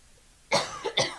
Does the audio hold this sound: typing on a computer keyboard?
no